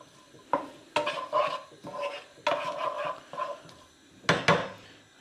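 Vegetables sweating in generous olive oil, stirred with a wooden spoon: a series of close scraping, knocking strokes against the pan over a soft sizzle, in irregular bursts.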